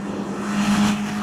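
Race cars sweep past at a Kirkistown race meeting, a brief rising and fading engine blare over a steady roar of track noise, with no talk.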